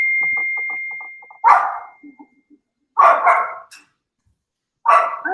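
A puppy gives three sharp, loud barks spaced about a second and a half apart. A steady electronic beep and faint muffled sounds come before the first bark.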